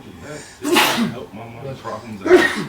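Two loud sharp sneezes, close up, one early and one near the end, with a person talking between them.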